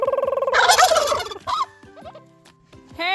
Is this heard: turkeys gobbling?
yes